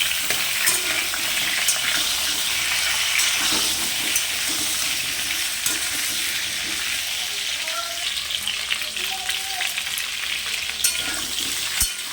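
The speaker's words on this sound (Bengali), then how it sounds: "তেলের মধ্যে আমি জিরে ফোড়ন দিলাম, এবার আমি আলুটাকে ভেজে নেব।" Potatoes frying in oil tempered with cumin seeds give a dense, steady sizzle close by, with occasional stirring scrapes and faint kitchen sounds underneath.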